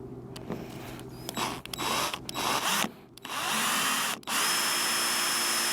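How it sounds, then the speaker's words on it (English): A power drill bores into the steel roof of a narrowboat in several loud, close bursts of steady whine, with brief stops between runs as the bit bites into the metal. "I'm going to drill and tap each of these one at a time"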